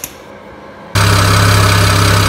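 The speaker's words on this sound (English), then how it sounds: "All right, so I have the car running." A BMW E90 with the N54 engine, running after a front O2 sensor replacement: a near, steady idle with a low rhythmic hum that kicks in abruptly after a quiet start.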